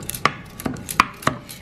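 Passion fruit mousse mixture beaten by hand in a bowl, giving four sharp, close clacks of utensil against bowl at an uneven pace, with no talking.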